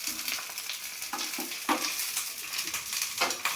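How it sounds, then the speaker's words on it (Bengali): Curry leaves and fenugreek seeds hit hot oil with a lively crackling sizzle, punctuated by several sharp spatters and light stirring noises, close and fairly loud. "এই পাতাটা দিয়ে দিলাম, এই মেথিটা দেবো, দিয়ে ভাজা ভাজা ভাজা হয়ে যাবে"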